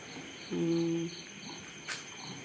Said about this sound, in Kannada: ಕಪ್ಪೆಗಳು ನೋಡಿ ಹೆಂಗೆ ಕರ ಕರ ಕರ ಕರ ಅಂತ ಸೌಂಡ್ ಮಾಡ್ತಾ